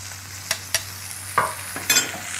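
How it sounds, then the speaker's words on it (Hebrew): Onions, peppers and a couple of spoonfuls of tomato pulp sizzle in a frying pan while being stirred, with a steady close frying hiss broken by several sharp scraping stirs. "אני מוסיף שתי כפות של הפולפה, בשר עגבניות, איזה רעש נהדר"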